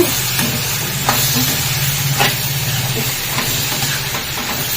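Tomatoes with chili powder frying in a pan over a high flame, a steady close sizzle with a few soft stirring knocks, no talk.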